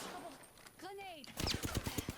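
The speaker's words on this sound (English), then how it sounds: "shots fired" Rapid bursts of gunfire in a video game, a quick run of loud automatic shots following a quieter stretch with a brief whistling sweep.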